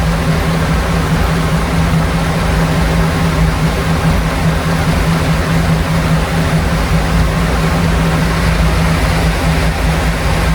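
A dual-carbureted flathead engine idles with its throttle held slightly open, a loud steady low rumble with an even hum that holds without change.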